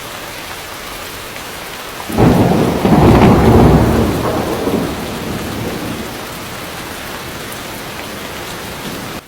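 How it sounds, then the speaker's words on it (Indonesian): Heavy rain with thunder in a late-afternoon downpour, a steady wash of rainfall swelling into a loud rumbling thunder burst that peaks and slowly fades back into continuous rain, with no voices. "Sore harinya, hujan sangat deras."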